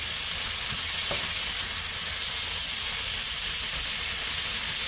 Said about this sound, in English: So we just want to fry this until the shaved steak looks cooked.